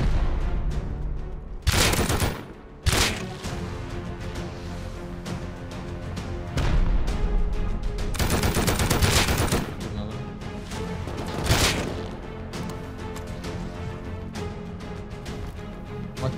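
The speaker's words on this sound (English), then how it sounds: "guys behind the base shooting me from behind" Loud, chaotic gunfire from players shooting in the video game Rust, with dense repeated shots and heavy booming bursts that come and go over several seconds, with no talking.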